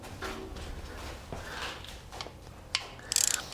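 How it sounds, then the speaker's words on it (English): A ratchet wrench works a 10 mm bolt loose during injection pump reassembly, giving quiet, close mechanical clicking that turns into a quick burst of sharper ratcheting near the end. "the first order of business is to remove that existing bolt"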